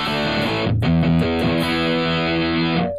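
Electric guitar through a Zoom G5n multi-effects patch with distortion but no delay, reverb or booster, a few heavy sustained chords with a brief gap, loud and dry, ending abruptly.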